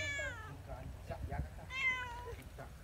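A cat meows twice, close and clear, the two calls separated by a brief stretch of quiet rustling.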